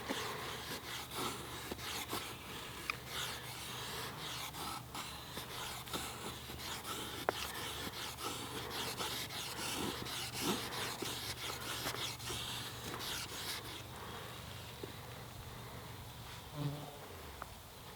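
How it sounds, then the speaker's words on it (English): Camillus Carnivore X survival knife, fresh out of the box, shaving thin curling strips from wood, giving a steady close rasping scrape that runs nearly continuously for about fourteen seconds before easing off. "This thing is taking off tiny, thin Shirley Temple"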